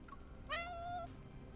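A thin, trembling kitten in the video game Love and Deepspace gives one clear, rising meow over a quiet background hum.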